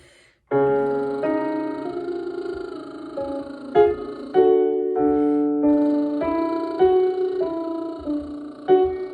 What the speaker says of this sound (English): Now let's actually start with some bubble lips.